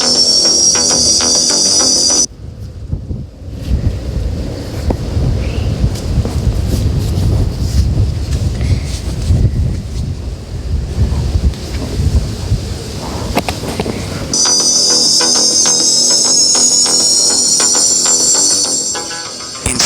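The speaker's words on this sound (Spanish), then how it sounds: "los pasajeros están abrochados y los motores aceleran" A TAESA Flight 725 airliner's engines roar up to takeoff power on the runway, a loud, dense rumble that swells for about twelve seconds with no talking over it.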